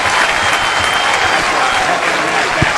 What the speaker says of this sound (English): That's going to be a base hit as the crowd comes to their feet for the Bulldogs